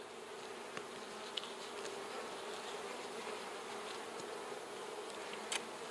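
A dense, steady buzz of honey bees swarms around a hive badly damaged by wax moths, with a few louder wingbeats passing close by.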